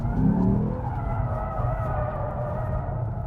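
A car's engine drones steadily while tires skid and squeal with a sustained high whine as the heavy car drifts, loud and close throughout.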